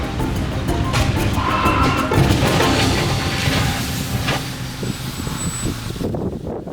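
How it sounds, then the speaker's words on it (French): A bus crashing into parked cars during a film stunt: loud, continuous heavy-vehicle rumble and crunching impact noise that fills most of the clip, then drops away sharply near the end. "le bus frôle la voiture du héros et aille finir dans des voitures garées sur le côté"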